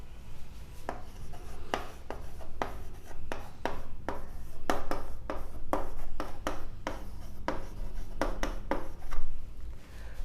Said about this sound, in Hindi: तो मैंने ये एक पॉलिनोमियल लिखा